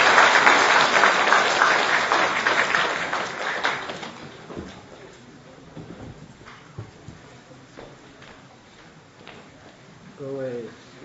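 Applause from a lecture audience welcoming a history scholar, loudest at the start and fading over a few seconds into scattered room noise, with a brief voice near the end.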